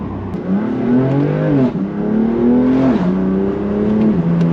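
A BMW M2 Competition accelerates hard, its engine note climbing steeply with clear upshifts where the pitch drops and rises again, loud and close from inside the car.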